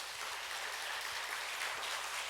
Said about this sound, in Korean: 우리 하나님께 큰 영광의 박수 올려드리겠습니다.